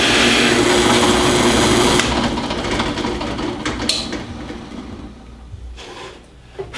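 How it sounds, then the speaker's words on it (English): A drill press boring a hole, probably with a Forstner-style bit cutting into wood to seat a woodworker's signature coin, with a loud steady grinding whir that drops off after about two seconds and then winds down. "Now we can start our drill press, cut our hole."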